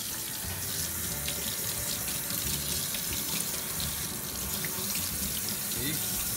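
Tap water runs steadily during a hair wash, a loud, close, continuous splashing rush with no pauses and faint indistinct sounds beneath.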